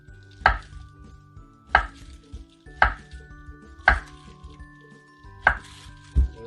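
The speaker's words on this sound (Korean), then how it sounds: "호박도 썰어주겠습니다" A knife chops through zucchini on a cutting board in five sharp, evenly spaced strikes, close and distinct with quiet gaps between, no voices.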